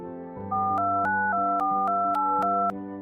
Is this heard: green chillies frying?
no